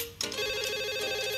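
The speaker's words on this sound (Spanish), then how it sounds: "entonces suena el celular" A mobile phone rings with a steady electronic ringtone, a sustained bright tone that starts abruptly and holds clear and fairly close for the short moment, with no talk over it.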